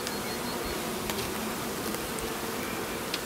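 Honeybees hum in a dense, continuous buzz around a small single-frame nucleus hive with freshly emerged brood, close and steady without pause or voices.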